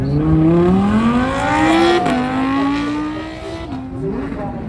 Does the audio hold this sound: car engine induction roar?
yes